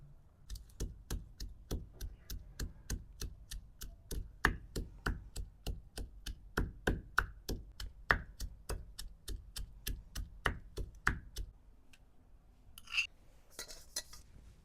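Ginger, garlic and chillies are pounded in a Gujarati home kitchen: a long, steady run of about twenty close, thudding strikes at an even pace, then a pause and a few faint scrapes.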